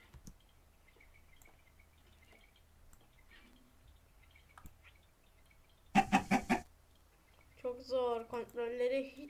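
Sparse sounds from a 2D Minecraft-style video game give way to a burst of clucking chickens, followed by people talking nearby.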